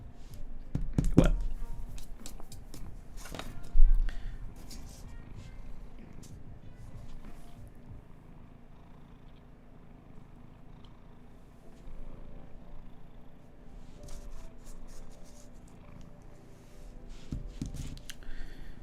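A house cat purrs close by in a low, steady rumble under faint room noise, with a few soft shuffles and taps, like a pencil on paper, during a live portrait drawing session.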